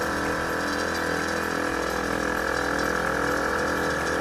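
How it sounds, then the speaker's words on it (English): A car fitted with an Accuair air ride system gives off a fast, continuous mechanical rattle and clatter with a ratchet-like rhythm. It sounds loud and close, and it runs without a break over a steady mechanical drone. "There's something back there rattling"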